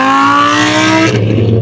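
Blue Lamborghini fitted with a body kit revs hard from inside the car, its engine note climbing in loud harmonic sweeps before dropping into a rough, rumbling lower tone.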